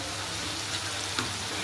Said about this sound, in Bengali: পেঁয়াজটা আধা ভাজা হয়ে গেছে, এবার এতে রসুন থেঁতো করা দিয়ে দিচ্ছি।